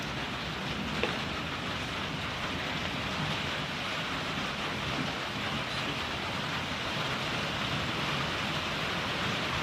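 Steady, dense rain pours down through a severe thunderstorm, a constant broadband hiss with no pauses, close and fairly loud, and a single faint knock near the start; no thunder or voices stand out.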